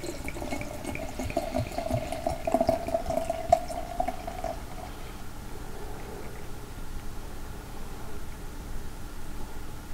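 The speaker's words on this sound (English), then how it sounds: "So let's get this into the glass." Stone Brewing Xocoveza charred bourbon-barrel-aged mocha stout is poured from a 500 ml bottle down the center of a glass, a steady close liquid rush for several seconds that then fades into quiet fizzing.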